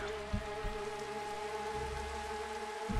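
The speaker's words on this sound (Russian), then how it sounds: "дождь до сих пор идет" Rain falling at night in the video game Minecraft, a steady hissing patter with occasional low thumps underneath, continuous and fairly close, with no speech over it.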